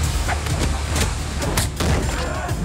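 Gunfight in an action film, a sustained barrage of overlapping gunshots and heavy thuds, loud and dense throughout with no pauses.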